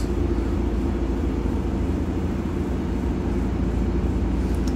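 Low rumbling vibration and drivetrain drone inside a Mercedes-Benz OC500LE bus in Singapore, a steady loud hum with no talking.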